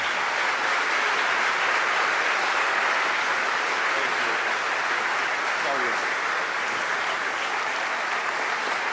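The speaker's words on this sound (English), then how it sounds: "everyone's like clapping for me as I walk out on the stage" Sustained applause from an awards-show audience at the Sports Emmy Awards, dense and steady clapping filling the hall for the whole stretch, with a faint murmur of voices mixed underneath.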